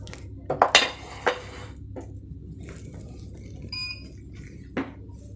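Steel serving spoon and plate clinking while dishing out Kerala-style erissery made with pumpkin and red beans: a quick cluster of sharp metallic clinks, a scrape, then a few scattered lighter taps and a soft ring, close in a quiet kitchen.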